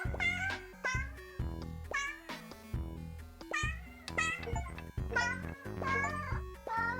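Cute cartoon cats meow in the video game 100 Robo Cats, a rapid string of high, bright mews following one after another, close and clear with no talking.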